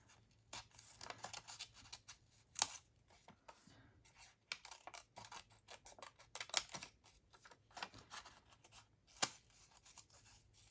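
Scissors snipping out small pieces of mark-made paper ephemera, quiet close-up cuts and rustles in an irregular rhythm, faint and without voices.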